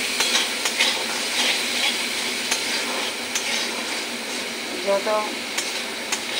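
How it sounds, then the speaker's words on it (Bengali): Spice masala fries and is stirred in a pan for a sarpunti fish curry with ridge gourd and tomato, a dense continuous sizzle broken by scraping stirs, and a voice briefly speaks over it. "ভালো করে মশলাটা কষে নিই।"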